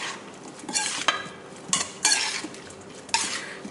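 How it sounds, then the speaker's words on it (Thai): Pork sausage salad with salted egg being tossed in a fermented-fish dressing, giving a handful of close scraping clinks of utensils against a bowl among soft stirring sounds, with no talking. "คลุกเคล้าให้เข้ากันค่ะ"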